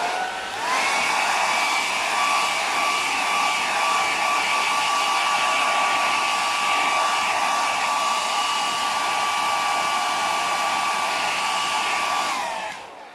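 A hairdryer blowing steadily on a wet watercolour flower painting, a constant loud whirring hum with a high whine that switches on, runs about twelve seconds and cuts off.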